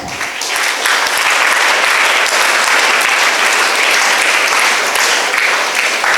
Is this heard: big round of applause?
yes